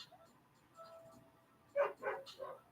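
A dog gives a quick series of three or four sharp barks late in the moment, after a quiet stretch, sounding moderately close in an indoor setting.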